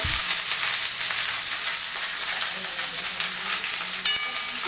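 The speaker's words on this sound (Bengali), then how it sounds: "আদা ভাজা হচ্ছে" Ginger paste sizzles in a pan with fried onion and garlic, a steady close hiss of frying with one brief clink near the end.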